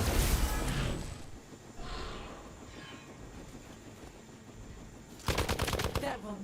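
Rapid bursts of gunfire in the video game Midnight Suns, a rattling clatter near the start and a dense, loud rapid-fire burst near the end over a rumbling game soundtrack.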